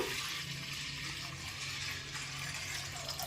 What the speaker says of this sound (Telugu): ఇందులో నీళ్లు పోసేసుకుందాము.